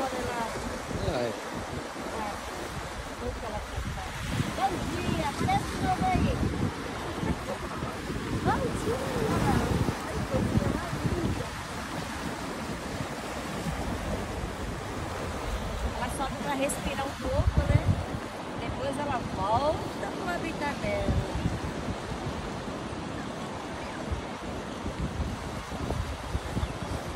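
Surf and wind along a rocky stretch of coast at a beach in Guarujá, a steady broadband wash of waves with gusting wind noise throughout, near and continuous, with occasional voices in the background.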